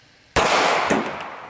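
A .45 ACP pistol round fired into a steel toe boot: one sharp, loud shot bursting abruptly from quiet, with a second smaller crack moments later and a ringing decay after it.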